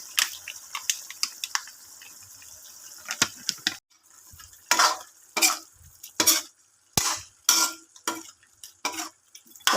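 Pork humba sizzles in a pan after vinegar goes in, stirred in repeated scraping strokes that come in uneven bursts over a low, hissing fry, with short pauses between strokes.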